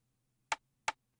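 Two short, woody rim snare clicks from a beat, close together and evenly timed, dry and alone over a faint low hum.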